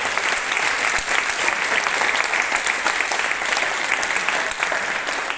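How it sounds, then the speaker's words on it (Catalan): An audience at a school graduation applauds the parents' association with dense, sustained clapping from many hands, steady and fairly loud throughout. "Un aplaudiment per tots vosaltres"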